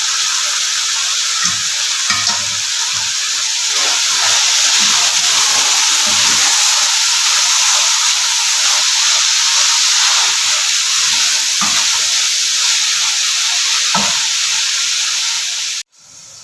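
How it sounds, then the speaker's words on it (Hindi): Chicken keema fries in a pan with green coriander as it is stirred and mixed, a loud steady sizzle and hiss with soft scraping stirs throughout, ending abruptly. "अब इन सब चीज़ों को मिक्स कर लें।"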